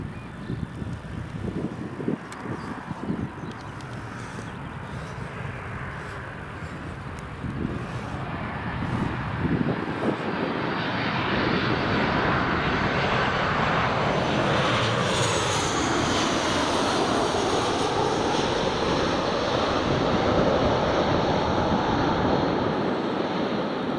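A Jet2 Boeing 737 comes in to land at Newcastle Airport, its jet engine roar building from a distant rumble to a loud, broad whoosh as it passes close, with wind noise underneath.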